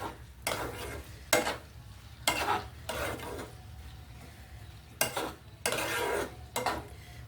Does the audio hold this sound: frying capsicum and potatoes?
yes